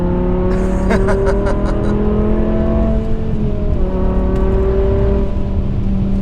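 A BMW E63 M6 V10 engine drones steadily with a few rising revs and tonal whine, heard close and muffled as if from inside the car; no talking.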